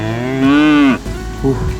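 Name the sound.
cows mooing on a road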